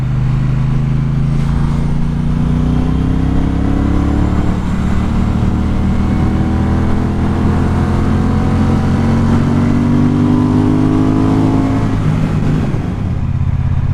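Triumph Speedmaster motorcycle engine pulling hard in second gear at higher speed, a loud, steady drone with rising engine pitch held close throughout, no talking.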